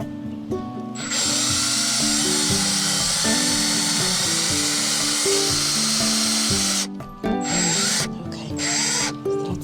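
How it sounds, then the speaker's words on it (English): A loud, steady power tool whine runs nearly continuously, briefly cutting out a couple of times near the end before spinning back up. "There's a drill."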